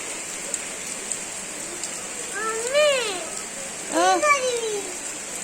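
Heavy rain pours during a cyclone, a loud, dense, steady hiss that continues throughout while a voice speaks over it twice in the middle.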